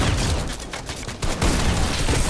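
Gunfire in the Fortnite video game: loud, rapid bursts of shots with crackling rumble and a short lull before another barrage, no voices.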